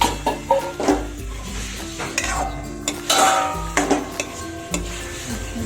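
Onion and capsicum stirred in a frying pan, a spatula scraping and clinking against the metal in repeated uneven strokes over a continuous soft sizzle, close and fairly loud.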